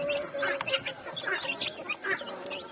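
Chickens, including Silkie hens and roosters, cluck and murmur softly at close range in short, irregular bursts, with faint chirps mixed in.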